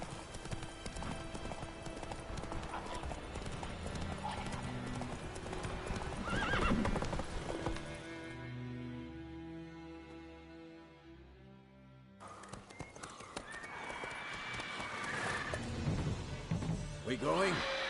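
Horse hooves clip-clop at a steady trot in The Witcher 3 video game, with a neigh and a snort, under in-game dialogue and music.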